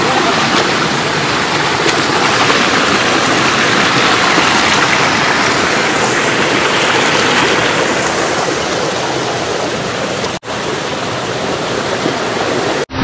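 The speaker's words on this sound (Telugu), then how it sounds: "ఈ ఉరుములతో కూడిన వర్షంలో చిక్కుకోవడం అనేది అత్యంత ప్రమాదకరమైన విషయం." Heavy rain pours steadily on a waterfall trail in Odisha during a thunderstorm, a dense, loud, continuous wash of water close by with no speech.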